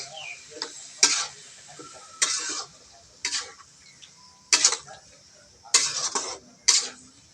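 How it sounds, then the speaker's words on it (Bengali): A spoon scrapes and clanks against a metal pot as vegetables are stirred into spices in a home kitchen, in irregular bursts of clinking strokes separated by short pauses, with faint speech in between. "এবার আমি সবজিটা দিয়ে দিচ্ছি এবার মশলার সঙ্গে মিশিয়ে নেওয়ার চেষ্টা করি"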